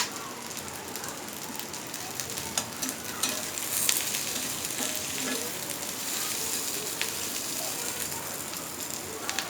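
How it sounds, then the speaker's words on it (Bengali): Green chilies fry with onion and garlic in a pan, with a continuous close sizzle and scattered crackles and pops and no voices. "পেঁয়াজ রসুনটা কিছুক্ষণ ভেজে নেওয়ার পর আমি এখানে দিয়ে দিচ্ছি কাঁচামরিচ।"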